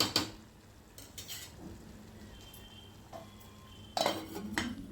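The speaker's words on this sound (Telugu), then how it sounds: "వేసుకున్న తర్వాత బాగా కలిపేసుకుంటే సరిపోతుంది దీన్ని మరీ పేస్ట్ లాగా చేయొద్దు జస్ట్ మనం గరిటతో కలుపుతున్నప్పుడే అది కొంత పేస్ట్ లాగా అవుతుంది" A ladle stirs dal in a pot for Andhra-style pappu pulusu, making scattered metallic scrapes and clinks, with louder clatters at the start and near the end.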